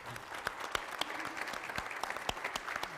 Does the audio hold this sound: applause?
yes